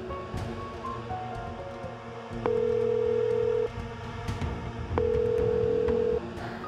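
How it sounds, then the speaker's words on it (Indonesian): A phone ringing on an unanswered call, with two long sustained ring tones after scattered short beeps, heard close and alone with no one speaking. "Aduh, Dek Kirana, angkatlah. Apa aku telepon Dek Siska aja ya"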